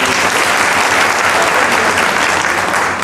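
Steady, dense audience applause at a press club gathering in honor of club members, loud and continuous with no pauses throughout.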